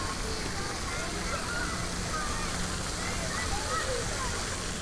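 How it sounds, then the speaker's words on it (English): Water fountain at Pier 84 park on the Manhattan waterfront, a steady broad splashing rush filling the background beneath occasional talk. "Let's walk closer to this water fountain."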